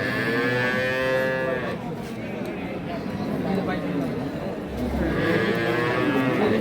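A dairy cow at the Ambari cattle haat in Dinajpur gives two long, loud, nearby moos, one at the start and one at the end, with market voices talking steadily underneath.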